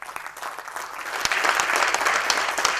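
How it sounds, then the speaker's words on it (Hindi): An audience at a leadership training session breaks into loud, sustained clapping that starts sparse, swells within about a second, and stays dense and close to the end. "इनके लिए एक बार जोरदार तालियां होना चाहिए।"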